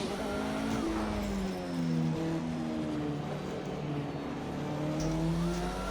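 A Group C race car in a racing video game lapping Brands Hatch at an easy pace, its engine note steadily rising and falling through the gears, continuous and close with no talking.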